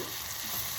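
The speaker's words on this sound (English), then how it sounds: "Just take out everything and pour it into the pan." Blended mustard greens for sarson da saag hit a hot pan over a gas flame with a dense, steady sizzling hiss, brief and moderately loud.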